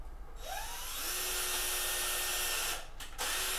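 A power drill spins up with a rising whine and drives a screw in a steady high buzz, stops briefly near the end, then starts again, loud and close with no talking.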